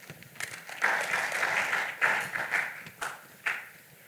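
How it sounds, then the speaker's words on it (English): Summit audience in a conference hall gives a round of applause, many hands clapping in a steady wash that swells and fades in waves. "So please, a round of applause for her."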